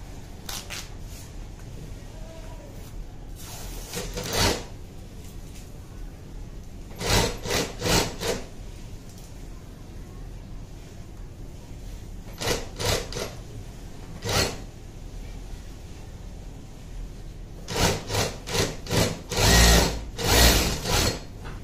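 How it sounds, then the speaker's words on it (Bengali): An MH-380 chain stitch sewing machine sewing thick stitching with triple bars, running in several short loud bursts with quieter gaps between. "দেখেন আমরা এখানে কত মোটা করে সেলাই করছি"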